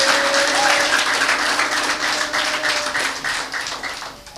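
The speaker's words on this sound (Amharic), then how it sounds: "እስኪ ለእግዚአብሔር ክብር አጨብጭቡ ባካችሁ" A church congregation claps in praise at a sermon, a dense, steady wash of applause that stays loud throughout and tapers slightly toward the end.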